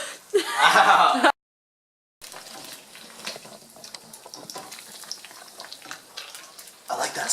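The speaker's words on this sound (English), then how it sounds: "I like that sizzle." Food frying in a home kitchen while banana pancakes are made gives a loud, brief sizzle, then after a short silence a quieter crackle continues, with faint clatter and voices nearby.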